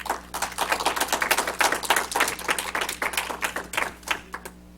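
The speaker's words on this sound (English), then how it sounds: "give them one more round of applause" Brief applause from a small club audience at a competition, a modest group clapping in uneven bursts over a steady low hum, fairly faint and fading out near the end.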